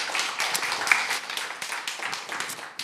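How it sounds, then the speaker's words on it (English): Conference audience at an XR event claps, a moderate, uneven patter of hands with distinct individual claps, fading slightly toward the end. "Let's get a round of applause."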